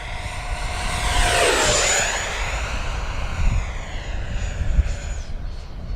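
XFLY Sirius 80mm RC jet on a speed run into the wind, a loud whooshing ducted-fan roar sweeping past with a rising then falling pitch as it flies by, alone with no talk.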